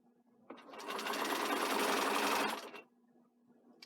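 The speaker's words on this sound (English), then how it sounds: "I'm sewing all the way down" A sewing machine runs in one steady burst of about two seconds while stitching a front placket band at a 5/8 seam allowance. It is close, fairly quiet and alone, with a brief start and stop.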